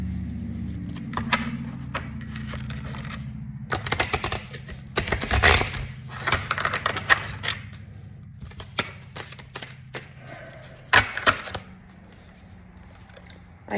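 A deck of tarot-style reading cards being shuffled, with crisp papery riffling bursts that come and go against a low, steady background hum.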